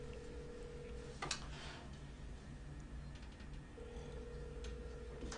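A phone call rings unanswered, with a faint, steady electronic ringback tone that sounds twice, separated by a quiet gap and occasional soft ticks.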